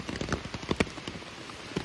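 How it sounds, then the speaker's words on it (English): Rain patters on a tent before dawn on Mount Greylock along the Appalachian Trail, with irregular close drops tapping the fabric in a steady scattered rhythm. "Yeah, it's raining."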